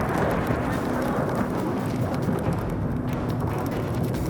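Thunderstorm at sea on a wild river-fishing trip, heard as a loud, steady roar of rain and wind with low rumbling throughout, continuous and close with no distinct crack standing out.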